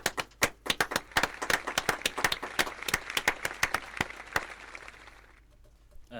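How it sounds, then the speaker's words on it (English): Audience applause at a student programming olympiad awards ceremony: many quick, sharp claps rising into a dense, lively burst that holds for several seconds, then thins out and fades near the end, with no talk over it. "Big applause to them."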